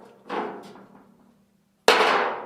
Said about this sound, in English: I've been beating this wheelbarrow back into shape